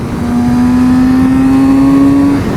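A Kawasaki Z900 RS motorcycle engine revs hard and accelerates, its loud, steady drone climbing slightly in pitch for about two seconds before cutting off.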